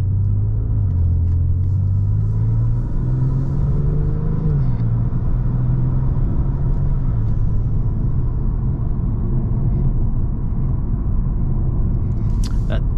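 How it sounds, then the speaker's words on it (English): Tuned 2023 Genesis G70 with 500 torque pulling hard from the cabin, a loud continuous engine rumble rising and falling in pitch under acceleration with turbo whoosh, steady and close throughout. "Turbo noise is amazing."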